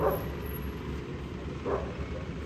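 Stray dogs bark on a roadside along the route from Dehradun toward Rishikesh, two short yelps at the start and near the end, fairly distant over steady traffic and wind rumble.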